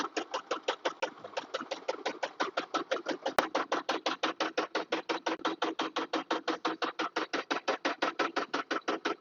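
A wooden ice cream stick making machine runs in a factory, giving a steady, fast rhythmic clatter of repeated mechanical strokes, loud and close, with no talk over it.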